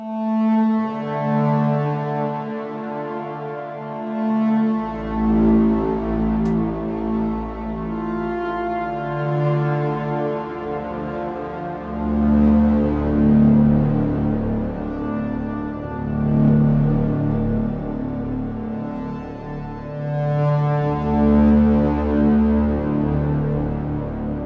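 Evolving atmosphere pads from the DV8 modern modular hybrid synth swell through slow, sustained chords with long reverb and delay tails, loud and alone, shifting every few seconds across the whole stretch.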